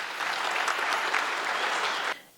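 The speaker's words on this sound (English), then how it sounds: "please join me in giving a round of applause to Divya, Amit Kaka, Gauri Kaku, Mansi, and all the people who have made this event such a success" Enthusiastic audience applause at an Arangetram dance recital, a dense sustained roar of clapping lasting about two seconds before tapering off sharply.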